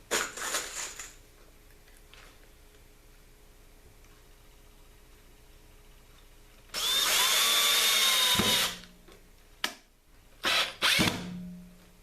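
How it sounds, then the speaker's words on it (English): A power drill drives screws into pre-drilled holes in a wooden corner block for cove molding, with a few short sharp bursts of whirring followed by a longer loud sustained run and then brief stop-start pulses. "I'll run screws in these holes."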